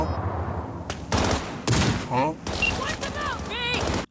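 Sniper gunfire in the video game Cyberpunk 2077 cracks out in several sharp bursts spread across a few seconds, mixed with other game sounds.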